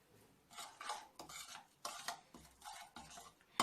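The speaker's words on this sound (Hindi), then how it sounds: "अब मैं इसको मिक्स कर लेती हूँ।" Spices, lemon juice, ginger-garlic paste and food colour being mixed into raw chicken pieces for fried chicken, producing quiet, rhythmic wet squelching and clinking strokes in repeated bursts, with no speech.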